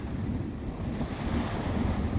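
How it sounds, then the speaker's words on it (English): Strong wind blows on the coast, buffeting the mic in a loud, continuous roar with a deep rumble, and surf may be mixed in. "It's crazy windy over here."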